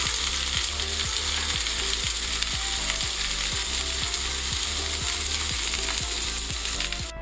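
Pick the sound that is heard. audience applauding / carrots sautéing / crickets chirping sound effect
carrots sautéing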